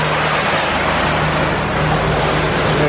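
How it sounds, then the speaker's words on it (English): Wake of an Xquisite X5 sailing catamaran motor sailing at speed on the open ocean, a loud, close, unbroken roar of rushing water and churning spray with a low engine hum beneath. "There's the wake."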